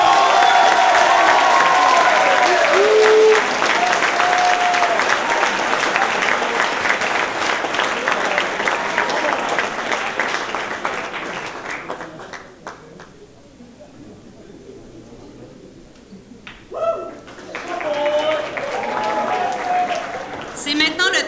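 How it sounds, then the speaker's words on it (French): Warm applause from a gala audience for a coach at a cultural awards evening, loud and sustained for about twelve seconds before fading into quieter room noise with a few scattered claps and murmurs. "j'aimerais une chaleureuse main d'applaudissements"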